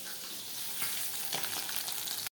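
Fish fries in a pan of hot oil in a home kitchen, giving a continuous, even sizzle at low to moderate level with a couple of brief louder crackles, and no voices over it.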